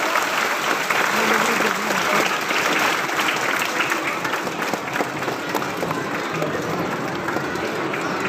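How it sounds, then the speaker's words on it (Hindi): Loud, sustained applause from a crowd at a political rally in Umrangso, Dima Hasao, Assam, continuous for the whole stretch and mixed with scattered crowd noise. "जोरदार तालियों"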